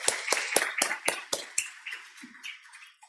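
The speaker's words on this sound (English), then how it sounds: "Another round of applause, please." Small conference session audience giving a brief round of applause, about seven distinct sharp claps at first, then thinning into scattered fading claps, no talk.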